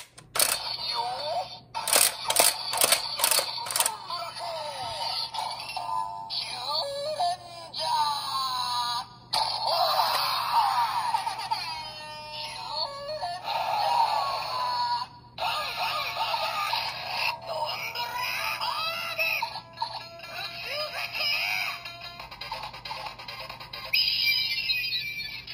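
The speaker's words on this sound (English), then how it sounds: "That sound effect is actually from Ho-Oh Soldier's Sword and Shield Morpher slash Weapon" Electronic sound effects and voice clips play from a DX Ryuko No Geki toy, the Ho-Oh Soldier sword and shield morpher weapon, with bright beeps and chimes mixed with recorded voices in quick bursts.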